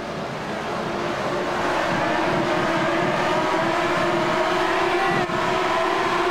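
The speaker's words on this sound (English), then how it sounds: "Engine revs will rise. We are green here at Monza." Race car engines roar together at the start of a racing video game at Monza, a loud, steady high-revving drone that holds level throughout with a rising tonal whine and no talk over it.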